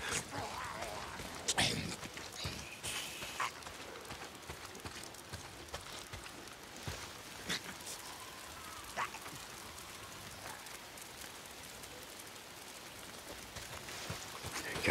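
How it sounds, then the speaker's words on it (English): Soft, steady rain patter with scattered drips and taps, a faint background hiss that continues throughout, in the video game Days Gone. "It's the goddamn rain. Why is it always raining?"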